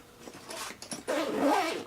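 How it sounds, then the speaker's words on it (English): Short zipping pass on a Gator Pro Go dual electric guitar gig bag, a close rasping run of teeth that builds into a louder, steadier pull near the end. "The zippers as well, they feel quite sturdy as you're zipping and unzipping."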